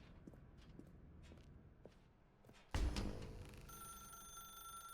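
A telephone rings in the video game The Stanley Parable Ultra Deluxe: a sudden loud bell-like burst after quiet footstep-like clicks, then a steady sustained electronic ring tone holding to the end.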